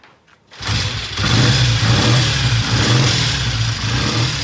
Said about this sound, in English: Let's see if he can get it running and do a test ride around the block.